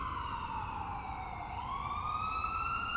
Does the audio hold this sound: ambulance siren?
yes